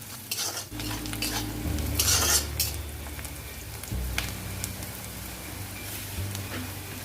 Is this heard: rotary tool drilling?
no